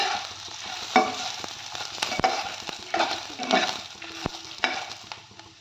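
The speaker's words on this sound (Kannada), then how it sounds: "ಇಲ್ಲಿ ನಾನು ತೆಂಗಿನಕಾಯಿ ತುರಿ ಹಾಗೂ ಹುಣಸೆಹಣ್ಣನ್ನು ಹುರಿಕೊಳ್ಳಿಕ್ಕೆ ಹಾಕ್ಕೊಳ್ತಾ" Grated coconut and tamarind roasting in a pan over a medium flame while being stirred for an egg curry masala, giving a steady soft sizzle with scraping stir strokes and occasional sharp ticks of the spoon against the pan.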